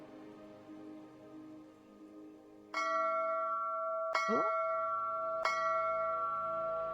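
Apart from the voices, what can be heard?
bell ringing in a video game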